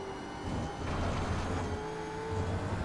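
Gen 3 V8 Supercar engine in iRacing at Spa, a steady close droning engine note that dips briefly then pulls back on throttle and keeps accelerating.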